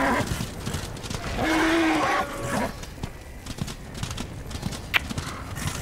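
Horse hooves clip-clop steadily in the video game Darksiders 2 as a mount trots along, and a brief whinny rises partway through over ambient game sound.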